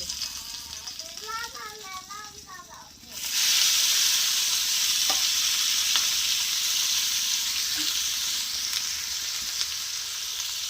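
Food for a quick mutton breakfast dish frying in oil in a pan, a loud, steady hiss that bursts in abruptly and then holds with a few faint pops, after a brief stretch of talking.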